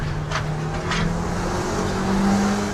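A car engine drones steadily as it drives away, its pitch slowly rising and then holding near the end, with a couple of brief noisy bursts early on.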